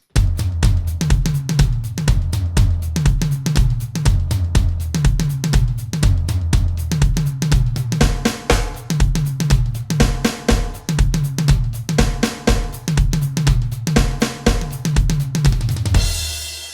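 A driving rock drum groove on a full kit built on single stroke rolls: punchy kicks and snare with rapid tom fills rolling between beats, loud and steady, ending with a cymbal crash.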